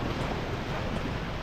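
Ocean surf washing in a steady broadband roar at a white sand beach in Maragondon, Philippines, mixed with wind buffeting the microphone.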